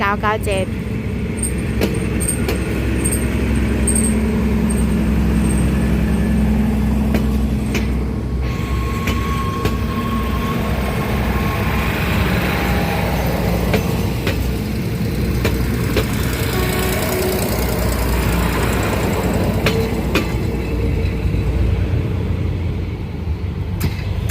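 A Daewoo diesel railcar running as Thai special express train 997 rolls past close by with a steady, loud rumble and rattling wheels lasting the whole stretch, joined by brief horn-like tones.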